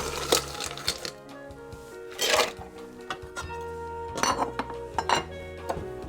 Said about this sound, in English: Now we're gonna add some ice to our tin.